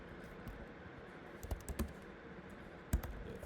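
Sparse, quiet computer keyboard keystrokes while code is typed, a few soft clicks clustered near the middle and one sharper tap near the end, close and with no voices.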